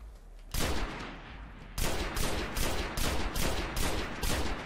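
Single-shot gunfire in Destiny on PS4: one loud shot, a pause, then a steady series of about seven evenly spaced shots, close and without talk.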